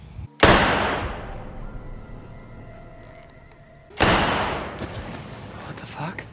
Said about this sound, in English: everyone except Jacob and Emma are at the radio hut when a gunshot rings out